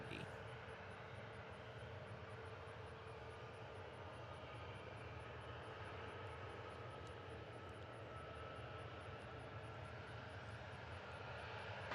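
A United Express Embraer E-170 airliner arriving from Newark to runway 19 at Reagan National Airport makes a steady, distant jet engine roar that holds evenly throughout.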